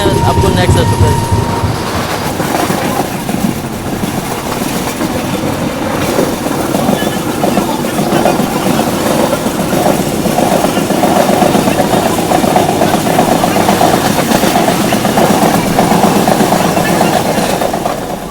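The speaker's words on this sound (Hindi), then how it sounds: "अपनी जो सत्याग्रह एक्सप्रेस है डिपार्ट कर चुकी है बगहा रेलवे स्टेशन से पूरे 20 मिनट डिले के साथ" Satyagraha Express rolls along inside a third-tier AC coach, a loud, steady rumble of wheels and carriage with passengers talking throughout.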